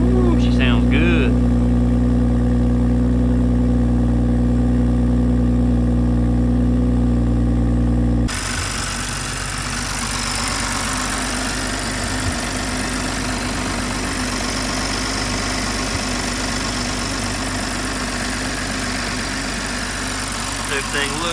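A BMW X3 M40i engine after an oil change settles into a steady, even idle close by, first as a smooth humming drone that then shifts to a broader, rougher running sound that holds at a constant level.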